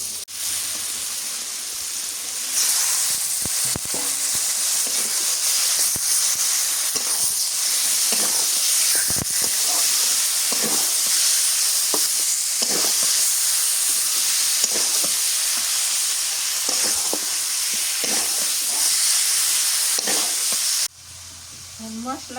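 Chicken meat sizzles loudly in a hot pan while being stirred, with steady frying hiss and repeated scraping strokes of a spoon throughout, then a brief quieter moment near the end.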